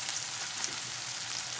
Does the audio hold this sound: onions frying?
yes